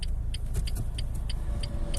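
Renault Megane 2 from 2008, a six-speed 110 hp Euro 5 car, gives a steady engine and road rumble from inside the cabin while driving, with faint rattles on top and no talk.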